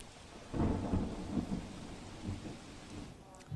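Thunderstorm with rain and gusty winds in Surat at night, a loud rumble of thunder rolling in over steady rain falling on surfaces, then easing back to the patter of rain.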